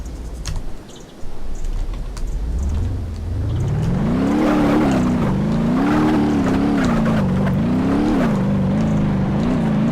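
Car in the BeamNG Drive racing game pulling away from near silence, its engine note climbing and then revving up and down with clear wavering pitch, close and loud, with light clicks early on.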